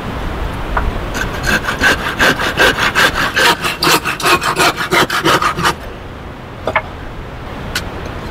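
A hand saw cuts through wood for a starling birdhouse, its strokes rapid and rhythmic for about five seconds, loud and close, followed by a few faint knocks and rustles.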